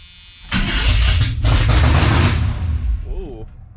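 A Chevy K10 square body's 454 big-block V8 roars to life and holds a loud, sustained high rev with the throttle stuck wide open, then begins to fade, with a brief voice exclaiming near the end.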